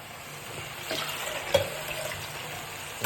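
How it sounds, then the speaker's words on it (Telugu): Water is poured into a cooking pot for a Nellore-style ladies finger (okra) mutton curry: a soft, faint trickle and splash lasting a few seconds, close by. "ఓకే ఇప్పుడు కొద్దిగా వాటర్ పోయాలంట."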